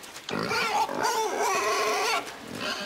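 A pig in the video game INSIDE grunts and squeals in a steady, close run of rough snorting calls lasting a few seconds, with no talk over it.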